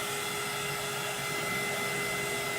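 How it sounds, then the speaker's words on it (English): A heat gun blows hot air to dry a copper finish on a small scrapwood shelf, giving a constant, even motor whine and airy rush at moderate volume. "let me grab my handy dandy heat gun"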